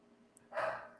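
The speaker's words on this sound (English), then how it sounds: "oh, sorry for my dog" A dog gives one short, loud bark close by in a quiet home setting, bursting out suddenly after near-silence.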